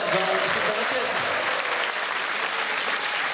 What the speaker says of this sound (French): vous pouvez essayer encore d'applaudir.